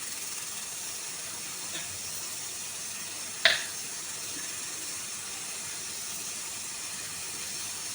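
Mustard oil sizzles in a kadai for a tadka, giving a steady, quiet frying hiss throughout with one brief sharp clink partway through and no talking.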